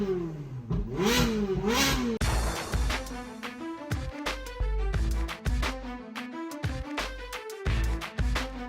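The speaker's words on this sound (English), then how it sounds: "Listen to this exhaust." A Ferrari's exhaust being revved: a rising and falling engine note early on, then a run of sharp, punchy bursts and pulses, loud and close, with no talking.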